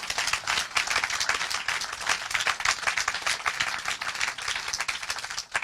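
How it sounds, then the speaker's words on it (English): An audience at a conversation event with filmmakers claps continuously, a dense crackle of many hands that stays loud and steady throughout with slight swells, no voices over it. "Yes, you can clap. Please clap."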